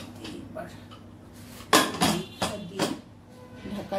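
A metal lid is set onto a cooking pot, giving several sharp clanks and rattles close by, one loud strike followed by a few lighter knocks, with a voice speaking in the background.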